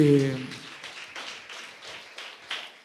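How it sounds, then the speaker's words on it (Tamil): A church congregation claps their hands in praise: a light, scattered round of claps with an uneven rhythm, heard at a moderate distance just after a speaking voice fades out. "நல்ல கைத்தட்டி ஆண்டவருக்கு நன்றி சொல்லலாமா?"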